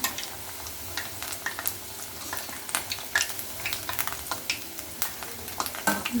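Bread pakoda fries in hot oil with a continuous close sizzle and scattered crisp bubbling pops, steady throughout with no voices.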